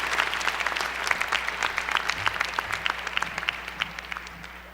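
A large crowd at a 2015 winter commencement ceremony applauds the graduate students, with dense, steady clapping that holds at an even level for the whole stretch.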